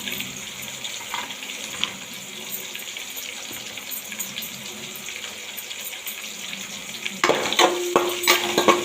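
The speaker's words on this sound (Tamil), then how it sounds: "போட்டு வதக்கிக்கணும் வதக்கிக்கணும்" Sliced big onion and curry leaves sautéing in a pan for radish sambar: a soft, continuous sizzle with occasional stirring scrapes, swelling into louder, busier stirring near the end, with no one talking.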